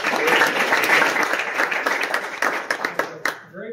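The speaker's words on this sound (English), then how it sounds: "Let's give a round of applause for Carson." A school board meeting audience applauding students of the month, steady dense clapping that carries through and thins out toward the end.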